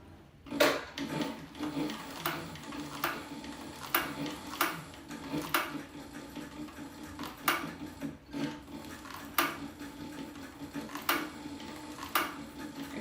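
Sewing a purse by hand or machine, with a steady run of soft ticking, tapping stitch sounds and occasional sharper clicks, moderately close and fairly quiet, no talking.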